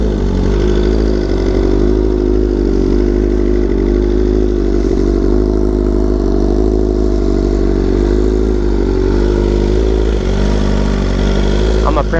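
BMW M1000RR superbike engine idling steadily up close, a loud continuous rumble with a low, even beat and faint mechanical clatter, running alone without change for the whole stretch.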